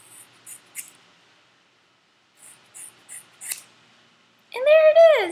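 Scissors cut long hair in a few crisp, close snips that come in two short bursts separated by a pause, followed by a brief spoken exclamation.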